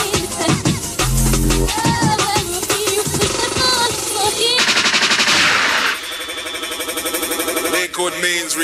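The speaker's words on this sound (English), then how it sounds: "a gunshot means forward" Rapid machine-gun fire sound effects burst loudly over a jungle drum-and-bass mix from a 1995 rave, rattling in fast bursts across dense music, with voices briefly heard.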